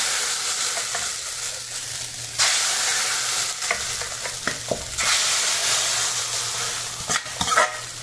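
Spices fry in hot oil in a pan for a Kottayam fish curry, a loud steady sizzle broken by stirring scrapes and small pops, close up and without any talking.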